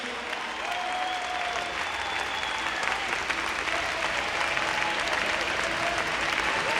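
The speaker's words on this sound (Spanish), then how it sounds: "Dele ese aplauso, no pare el aplauso, amado hermano." Sustained congregation applause filling a church, a steady dense patter of clapping from many hands held at even loudness throughout, with a faint voice calling out briefly over it.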